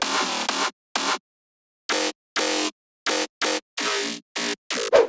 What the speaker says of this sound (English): To make your bass sound more unique, you should add some growls, stabs to have some different character on specific notes.